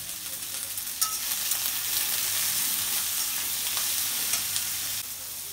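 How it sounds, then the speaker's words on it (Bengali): Chopped onion frying in a pan with salt for a chicken or fish curry, a steady close sizzle with occasional stirring scrapes throughout, no voices. "পেঁয়াজটা ভাজা হয়ে গেছে"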